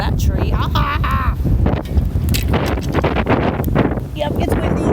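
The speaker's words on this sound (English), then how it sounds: "Yep, it's windy." Strong wind blows hard outdoors beside a Texas fishing spot, buffeting the microphone with loud, continuous roaring gusts. A voice talks over it, with a brief exclamation early on.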